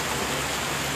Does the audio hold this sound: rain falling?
yes